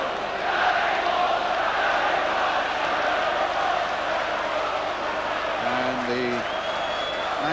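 Manchester United supporters chant a young goalkeeper's name during a football match against Spurs, a steady, dense crowd roar filling the stadium, with a brief spoken word and some whistle-like tones near the end.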